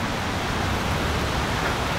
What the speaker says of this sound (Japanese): すごい雨になっちゃいました。